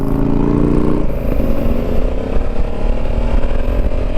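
A 2021 Honda Africa Twin DCT motorcycle engine revs close by, then drops pitch as the dual-clutch transmission shifts into second gear and the engine pulls on steadily with a gritty, rising drone.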